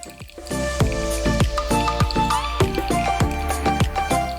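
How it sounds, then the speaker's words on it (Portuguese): Hot water is poured slowly in a circular motion over ground organic coffee in a pour-over brewer, giving a steady trickling, dripping sound with soft wet squishes, close and continuous. "Vai fazendo o movimento sentido horário lentamente, distribuindo a água para as laterais até chegar a 150 gramas."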